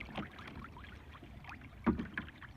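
A boat is paddled across Arran Lake on a fishing outing. Soft, intermittent paddle strokes and small water swishes sound close by against quiet surroundings.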